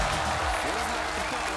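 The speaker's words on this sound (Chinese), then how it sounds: "我们也把那个祝贺的掌声送给我们的欧阳俊啊" Studio audience applause congratulating a newly crowned winner on the Chinese quiz show Yi Zhan Dao Di, a steady, even wash of clapping throughout with a faint voice underneath.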